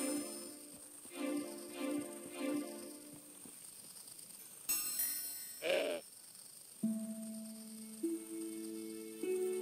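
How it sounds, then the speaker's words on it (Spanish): A goat in the Broken Sword 5 video game bleats in three short calls early on, then gives a louder, wavering bleat mid-clip, with steady tonal game chimes and background music underneath. "La cabra no alcanzaba las manzanas."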